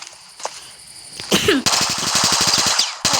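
Pistol gunfire in a mobile shooter game: a few scattered shots, then a fast, steady burst of rapid reports that runs loud and close to the end, with no voices over it.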